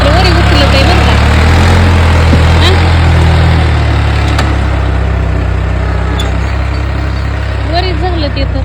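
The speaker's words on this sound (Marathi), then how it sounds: "ट्रॅक्टर वरी उचलत आहे बरं का." A tractor engine drones steadily and loudly close by as it lifts a new plough in a farm field, with voices talking over it.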